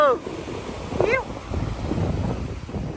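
Steady wind and surf noise rumbles throughout at a beach in Vizag, with a voice briefly rising over it near the start.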